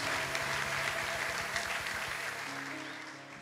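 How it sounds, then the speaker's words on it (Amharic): A church congregation bursts into steady applause for a couple who have returned with twin babies, the dense clapping loud at first and slowly thinning, with a low rhythmic pulse running underneath. "አጨብጭቡ"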